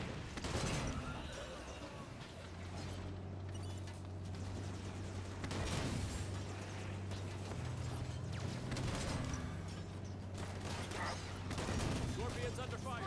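A Scorpion tank in Halo 5: Guardians rumbles with a steady engine drone while its cannon fires several loud, spaced blasts amid mechanical clanks and battle noise, with voices talking over it.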